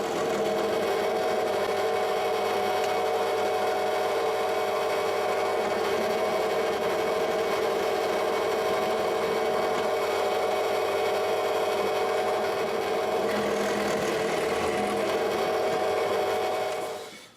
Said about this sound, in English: put a bigger drill bit in